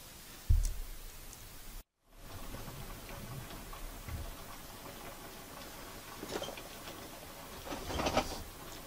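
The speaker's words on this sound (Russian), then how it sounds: "но льет дождь, дождь льет" Heavy rain pouring outside, a faint steady patter with scattered drips and ticks, interrupted by a brief silent gap.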